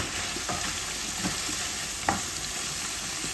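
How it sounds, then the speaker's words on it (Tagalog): Paprika-seasoned pork frying in a pan: steady broadband sizzling with a few sharp crackles and pops, close up, no voices. "Habang piniprito po natin yung baboy, gusto ko kasi pritong-prito"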